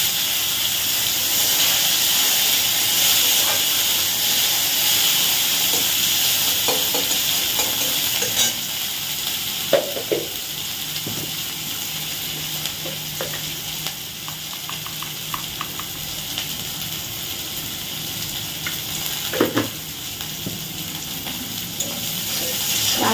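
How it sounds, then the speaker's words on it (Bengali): Whole spices hiss and sputter in hot oil while being tempered for a bitter gourd dish, a steady frying sizzle broken by occasional clinks and scrapes of a spatula against the pan. "ফোড়ন দিলাম সেগুলোকে আগে ভেজে নেবো"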